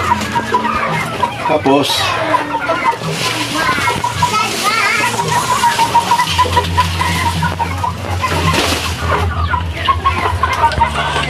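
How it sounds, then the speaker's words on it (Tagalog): Frightened chickens cluck and squawk in an agitated chorus close by, with water splashing and a person speaking briefly over the birds. "Takot yung mga manok. Kala nila kakatayin na."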